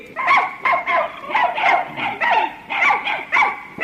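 A dog kept in a small hut-like kennel barks in a quick series of sharp, close, loud yaps with some whimpering mixed in, about eight barks in under four seconds, with no talking over them.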